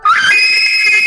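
A loud, high-pitched scream in a Minecraft family role-play, sustained and shrill for about a second, sharply close and alone.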